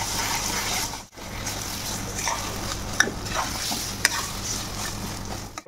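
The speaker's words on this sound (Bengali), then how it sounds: "এখন ভালো করে মিশ্রণটিকে কষিয়ে নিতে হবে।" A chickpea dal mixture with turmeric sizzles in hot oil while a spoon stirs it, giving a continuous crackle with a brief break and a couple of sharp scrapes or taps against the pan.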